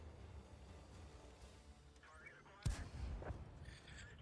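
A StuG IV tank gun fires in World of Tanks, one sharp booming blast that rolls into a rumbling tail after a stretch of quiet engine and battlefield ambience.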